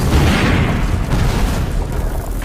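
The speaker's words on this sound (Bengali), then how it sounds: "ওয়েল তখনই গৌতম সিটিতে একাধিক জায়গায় ব্লাস্ট হয়, সাথে স্টেডিয়ামটাও উড়ে যায়।" Bomb blasts bring down a stadium in the Batman film The Dark Knight Rises, a loud, continuous low rumbling roar of explosions lasting the whole stretch with no voices.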